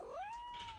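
A single short meow, rising then holding steady, close by and fairly quiet, with no other sounds around it.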